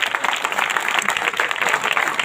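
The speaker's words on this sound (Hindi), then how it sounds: "इन सब बच्चों को बिलखसूस इनके लिए ज़ोरदार तालियां बजाते हैं" A church congregation at a Sunday prayer service at St. John the Baptist Church gives loud, sustained applause for the children, a dense clapping that carries steadily through the whole moment with no talk over it.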